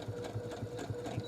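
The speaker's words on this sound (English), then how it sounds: "And I sew, and right as I get to the end," A sewing machine stitching a fabric face mask runs in a fast, steady, even rhythm of needle strokes. The sound is close and continuous with no pauses.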